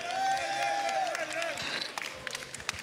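A studio audience at a rap battle show breaks into cheering and applause, a dense crowd roar with a sustained shout at first, then thinning into scattered claps and whoops.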